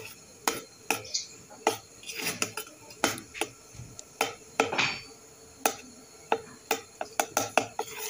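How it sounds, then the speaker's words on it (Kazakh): A spoon stirs and knocks against a saucepan as butter melts for a honey cake, with repeated sharp metallic clinks and scrapes at an irregular rhythm, close and alone. "Осылай жақсылап араластырып аламыз."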